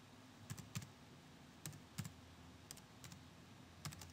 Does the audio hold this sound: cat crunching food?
no